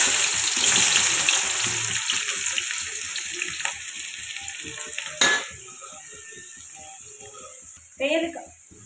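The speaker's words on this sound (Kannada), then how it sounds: "ಸಾಸಿವೆ ಸಿಡಿದ್ಮೇಲೆ ಈರುಳ್ಳಿ ಹಾಕ್ತೀವಿ" Mustard seeds popping and onions sizzling in hot oil in a pan for tomato gojju, a steady frying hiss with sharp crackles near the middle and again near the end.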